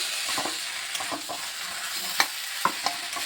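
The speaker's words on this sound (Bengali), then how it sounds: "এবার ভালোভাবে মিশিয়ে নিচ্ছি" A utensil scrapes and knocks around a pan in irregular strokes, stirring papaya, milk and tomato over a soft background sizzle, with a few sharper clinks.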